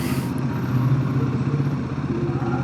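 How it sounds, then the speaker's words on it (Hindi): Motorcycle engine idling close by while the bike is parked, a steady low throbbing rumble with light clatter, no talk over it. "अब हम लगाएं अपनी बाइक।"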